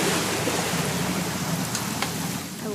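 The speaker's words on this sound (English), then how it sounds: "It's gonna rain the whole weekend," Rain falls in the video game What Remains of Edith Finch as a steady, full wash of drops with faint scattered ticks, heard alone without talk.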